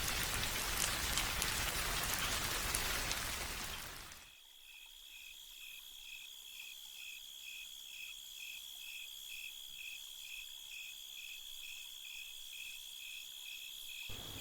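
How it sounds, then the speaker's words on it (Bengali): Light drizzle falls outdoors at night as a soft, steady patter for the first few seconds, then fades, leaving a quiet, regular chorus of chirping crickets. "বাইরে এখনও ঝিরঝিরে বৃষ্টি হচ্ছে"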